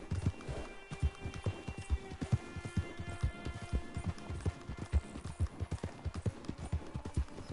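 A horse's hooves clip-clopping at a steady trot in Red Dead Redemption 2 Online, a rapid, even beat of hoof strikes that stays close and clear throughout, with a faint hum behind.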